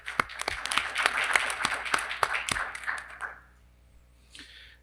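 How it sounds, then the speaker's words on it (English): Applause from the audience at a school board meeting, a short burst of clapping that swells, holds for about three seconds and then fades out into quiet. "Truly believe they earn a round of applause for that."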